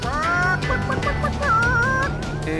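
A chicken clucks repeatedly in the video game Call of Juarez, close and loud, with warbling cackles and a rising, wavering call partway through, over a low steady background hum.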